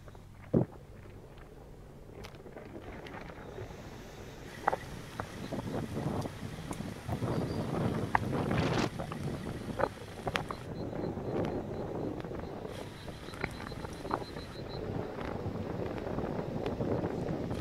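Strong cyclone winds buffet the microphone on the coast, with a continuous roaring rush punctuated by sharp gusts and knocks, loud and close throughout.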